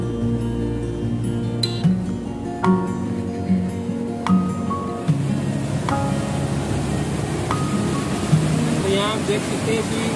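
Water driven by motors from a pumping station rushes along a canal into a dam while the gate stays closed, a steady broad roar with tonal hums and clicks, and a voice talks over it.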